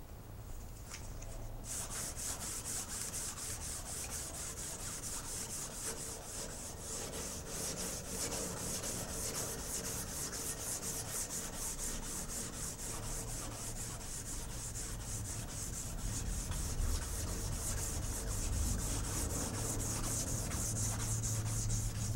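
A knife handle and tang sanded by hand in a shop, continuous close rhythmic rasping strokes that carry on steadily throughout.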